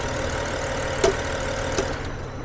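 A BMW X5 E70 petrol engine with a stalling fault idles steadily up close, a low even hum with two brief sharp clicks or knocks standing out near the middle and end.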